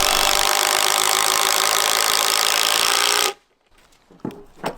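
An impact driver drives screws into a wooden workpiece during a small mobile tiny house build, making a loud, steady buzzing rattle for about three seconds before cutting off, then a few faint knocks and handling sounds.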